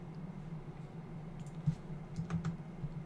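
Number keys tapped on a computer keyboard while entering a rotation value in 3D software, a few quiet close clicks clustered in the second half over a low steady room hum.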